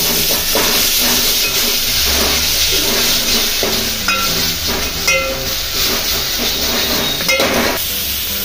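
Green masala paste fries in hot oil and ghee, giving a loud, steady hissing sizzle throughout, with occasional spoon clinks and scrapes against the pan.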